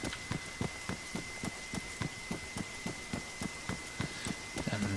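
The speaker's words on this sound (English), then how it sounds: "And the rain's starting again." Steady rain patters on a surface, with a regular rhythmic thudding like footsteps running through it and a thin constant tone above.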